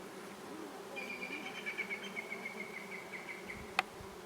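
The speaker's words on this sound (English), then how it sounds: "you can hear in the background all the bees on this lavender" Bees buzzing on lavender in a garden in late summer to early autumn, a steady close drone with a brief sharp click near the end.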